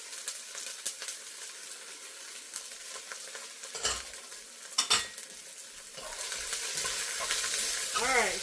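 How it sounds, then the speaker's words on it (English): Snap peas, matchstick carrots and green onions are stirred in a sizzling stir-fry pan with shrimp and noodles, the frying hiss rising steadily, broken by scraping and clanking utensil strokes, with a brief rhythmic wobble at the end. "All right, stir, stir,"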